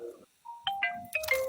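A phone rings with a short chime-like ringtone of several bright tonal notes after a brief pause, close and clear, with no talk over it.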